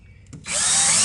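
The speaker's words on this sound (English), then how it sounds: "So you want to take your drill with your number 2 Phillips bit" A power drill with a number 2 Phillips bit drives a screw into the track liner of a commercial golf ball washer, a faint tap or two and then a loud, sustained high whine of the motor spinning up.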